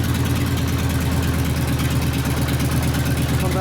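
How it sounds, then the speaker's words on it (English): A Harley Evo engine in a rigid chopper idles steadily during a tune-up, giving a loud, close, continuous low rumble with an even rapid pulsing throughout. "You lower the idle speed down."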